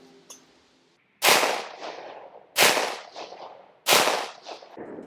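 Three loud gunshots from a Daniel Defense 300BLK PDW firing Gorilla 110 grain all-copper rounds, evenly spaced about 1.3 seconds apart, each a sharp crack with a decaying echo tail, with no talking.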